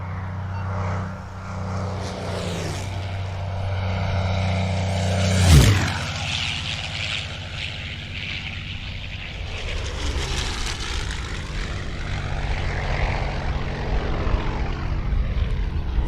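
A P-40 propeller warplane roars past low at an airshow, its engine drone swelling to a sharp peak as it passes close, then fading into a broad rushing sweep as it climbs away.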